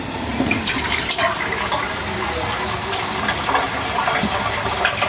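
Hot water pours steadily into a pot in a traditional home kitchen, a continuous close gushing splash lasting several seconds with no talking.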